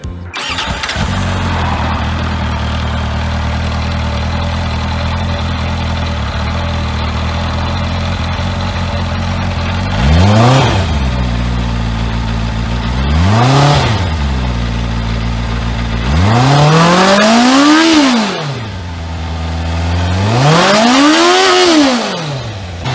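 The engine of a Benda LFC 700 cruiser motorcycle, a Chinese bike with a Japanese engine, idles loudly and steadily, then is revved four times, each rev rising and falling smoothly before it settles back to idle.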